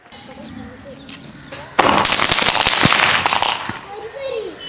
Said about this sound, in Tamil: 7 டைம் வெடிக்கும், மேலே போயிட்டு 7 இதாக வெடிக்கும்